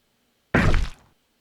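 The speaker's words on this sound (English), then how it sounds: "Player hit when you get shot." A video game sound effect for the player being hit by gunfire: a single dull, heavy thump that fades quickly, alone against silence.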